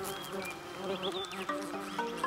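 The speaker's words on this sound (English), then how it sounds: "The paper wasp." Paper wasp, a species that builds papery nests from plant fibres, buzzing in the New Zealand wild, a steady close insect drone with shifting pitch as it moves around, heard alone without any voices.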